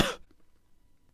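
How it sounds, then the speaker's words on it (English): A single short, loud cough at the very start, followed by near silence with only faint low room noise. "use trimming to remove this cough from the recording"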